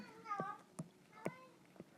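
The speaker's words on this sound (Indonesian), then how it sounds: "Kucing saya lagi ngeong." A house cat meows indoors, three or four short, faint mews spaced about half a second apart, with a quiet background.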